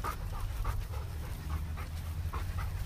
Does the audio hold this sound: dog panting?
yes